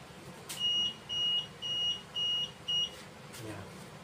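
An ESP32 laser security alarm sounds its buzzer once the beam is crossed, giving five even, high-pitched beeps in a steady on-off rhythm, close and clear over a faint background hiss.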